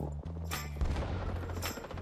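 Pistol shots in Rising Storm 2, a handful of sharp close reports with one heavy thump near the middle, set against low battlefield rumble.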